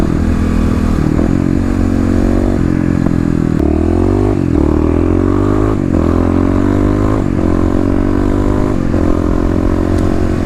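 An EFI Kawasaki KLX351 dirt bike engine warms up loud and close, holding a steady idle with a few rising and falling revs and a metallic clatter, no voices.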